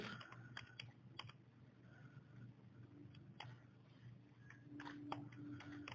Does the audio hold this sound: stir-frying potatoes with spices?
no